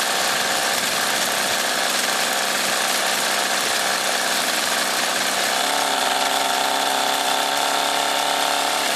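A 49cc egg motor with a carburetor runs on a test, a loud, continuous, buzzing rattle of a small two-stroke that steadies into a more even tone partway through, close and without talk.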